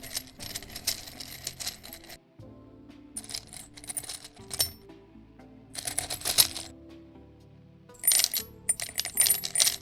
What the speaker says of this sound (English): Got multiple coin pile sound effects that I recorded.